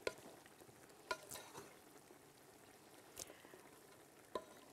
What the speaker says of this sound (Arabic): هي كل شوية كانت بتبص على الرز وبتقلبه